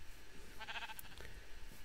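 A single Minecraft sheep bleats once, a short wavering blip in the middle of a quiet game ambience with soft background hiss, and no voices.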